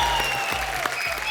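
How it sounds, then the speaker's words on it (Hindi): Studio audience on a TV comedy show claps in a brief, dense burst, with background music tones running beneath it. "एक बार जोरदार तालियां मिस्टर शाहरुख खान एंड आलिया भट्ट के लिए।"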